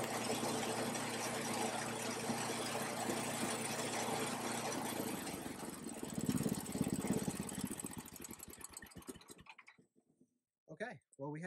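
A Snapper 1030 snowblower engine idles at about 1,100 RPM, a steady close mechanical drone that runs for most of the clip before cutting out, followed by a brief silence and a few short bursts at the end.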